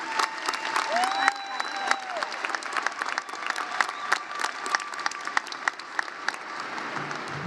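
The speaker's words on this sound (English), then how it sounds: "Please give yourselves a round of applause as we have accomplished the impossible." Steady applause from graduates at a college commencement ceremony, a dense mid-distance patter of many hands with scattered sharper claps, continuing evenly throughout with faint voices mixed in.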